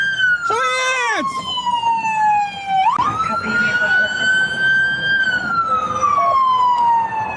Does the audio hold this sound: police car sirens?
yes